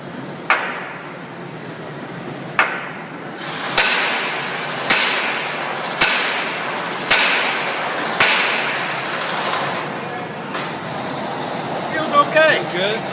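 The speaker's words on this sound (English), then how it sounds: "If you're going to have a really good hammer in your box, it should be one of these Wilton hammers." A heavy-duty Wilton hammer strikes about eight times at a steady, roughly one-per-second pace, each sharp ringing blow close and loud, with a faint mechanical hum and brief light rattling near the end.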